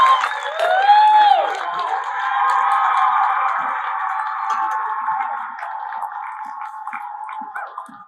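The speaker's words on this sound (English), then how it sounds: "round of applause for that espresso round" An audience at the 2023 US Barista Championship in Portland, Oregon, cheers after an espresso round. Sharp whoops and shouts rise first, then sustained clapping and crowd noise gradually thin out.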